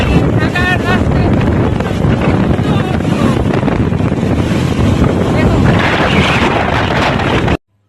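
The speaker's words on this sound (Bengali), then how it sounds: "প্রচন্ড বৃষ্টি আসছে, আর এই বৃষ্টির মধ্যে আমরা এখন বাইক নিয়ে ঘুরে যাচ্ছি" Heavy rain and strong wind while riding a motorbike through Dhaka streets: a dense, loud, continuous roar of wind buffeting close by, steady throughout before cutting off abruptly at the end.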